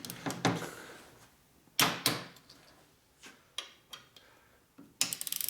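A ratchet torque wrench tightens a belt drive on a 2004 Harley-Davidson FLHT Twin Cam touring bike, giving sharp separate ratcheting clicks in short bursts, close and fairly loud, with quiet gaps between pulls.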